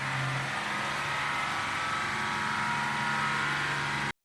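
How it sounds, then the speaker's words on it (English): A 1980 Datsun 280ZX, parked for 26 years, driving down the road with a steady loud engine drone and broad road noise throughout, cutting off abruptly at the end, no talking. "This is going to be the first attempt at driving down the road in 26 years."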